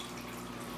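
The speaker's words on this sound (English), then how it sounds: "Allow the water to go into my collection bucket." Aquarium water pours from a fish net into a collection bucket, a steady close splashing trickle with no talk.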